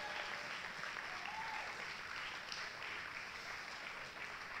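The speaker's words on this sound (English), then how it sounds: "We clap our hands" A church congregation clapping their hands during worship, a soft, continuous spread of many claps heard at a distance with a faint tone drifting underneath.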